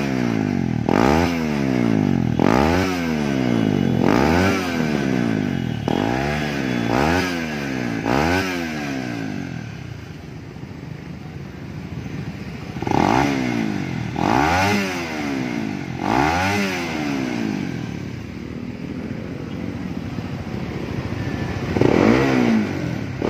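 A Honda CB150R with a lightened, hollowed-out stock exhaust is revved repeatedly, rising and falling in quick throttle blips with a soft, close, burbling engine note and no talk.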